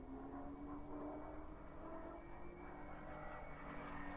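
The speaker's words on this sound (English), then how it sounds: "I heard a plane." A propeller airplane drones steadily overhead in a World War II airborne-themed video game, a continuous engine hum with no talking over it.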